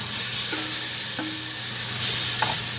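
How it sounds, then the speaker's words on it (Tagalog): Pork marinated in soy sauce and pepper sautés in a pan with cooked tomatoes, a steady close sizzle with a few light scrapes of stirring, no voices. "Yan, igisa muna natin to."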